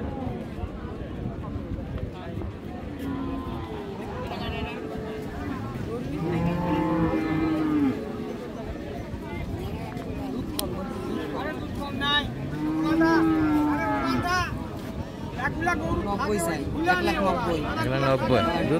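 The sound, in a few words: Friesian cow mooing at a cattle market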